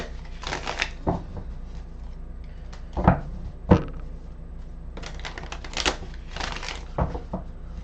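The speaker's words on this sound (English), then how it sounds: "I've already pre-shuffled the cards," Tarot cards are shuffled up close in repeated papery bursts of riffling and tapping, with a few sharper knocks in between.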